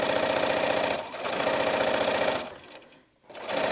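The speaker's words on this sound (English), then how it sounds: "I'm going back to my machine again, and I'm going to sew 1/4 of an inch away from the top edge" Sewing machine topstitching along the top edge of a small bag, running in steady continuous bursts with a brief pause, close and loud, no talking.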